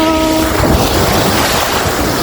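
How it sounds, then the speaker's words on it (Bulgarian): Waves wash against the Aegean Sea shore in Greece, a loud, continuous rushing surge with wind buffeting close by. "Вълни се появиха, което е малко лошо."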